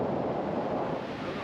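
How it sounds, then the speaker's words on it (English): Wind-driven waves on Lake Tapps, Washington, a constant broad wash of water noise mixed with heavy wind buffeting the microphone, steady and loud throughout. "Them waves are all from the wind. Those are all wind-driven waves."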